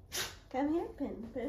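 A pit bull puppy gives a short, sharp sneeze at the start, close and clear, followed by someone speaking to it.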